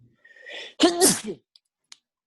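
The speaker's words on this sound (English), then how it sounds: "That one was a sneeze." A single sharp sneeze, close and loud, with a short breathy intake before it and near silence afterward.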